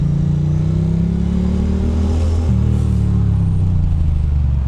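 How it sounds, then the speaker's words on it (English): A big truck passes in Brooklyn city traffic, a loud, continuous low diesel rumble with a gear shift partway through, heard close amid a steady engine drone. "This big smelly truck."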